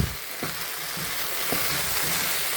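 Potatoes for Kerala-style mezhukkupuratti stirred and frying in a pan over a medium flame, with a continuous close sizzle and a few soft scrapes of the ladle.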